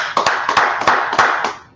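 A small class audience gives a brief burst of clapping, about six sharp, fairly loud claps in an uneven rhythm, heard close and with no talking.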